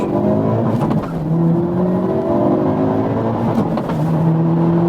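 2022 Hyundai Elantra N with a dual-clutch transmission launching hard: a loud, sustained engine roar with rising tones that drop briefly at each quick gearshift, heard close and continuous throughout.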